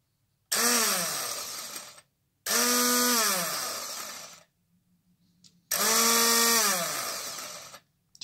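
Vienta food processor chopper with a two-blade stainless steel chopping attachment running in normal mode, three loud motor bursts of about one to two seconds each with rising whine and short pauses between, no talking.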